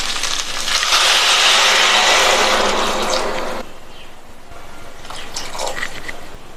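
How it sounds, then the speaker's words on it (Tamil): Water pours from a tumbler into a pot of rice for peas pulao, a loud close splashing stream for several seconds. The stream stops abruptly, leaving a few faint drips and soft clinks. "அரிசி எடுத்த டம்ளர்லேயே 1/4 டம்ளர் தண்ணி சேர்த்துக்கலாம்"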